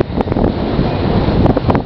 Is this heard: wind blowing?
yes